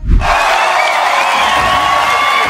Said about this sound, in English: when she made a surprise appearance on the show, the crowd went crazy